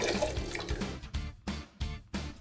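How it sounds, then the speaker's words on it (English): Water poured in several separate splashes into a homemade steam contraption, each burst gurgling briefly before stopping, close and moderately loud with short gaps between pours. "Now add water."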